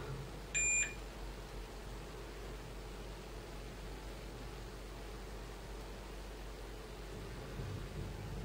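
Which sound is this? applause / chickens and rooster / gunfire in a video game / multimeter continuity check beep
multimeter continuity check beep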